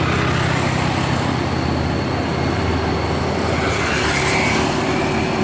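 A convoy of Hino trucks passing on a road makes a loud, continuous engine rumble and tyre roar that stays close and steady throughout, with no breaks between vehicles.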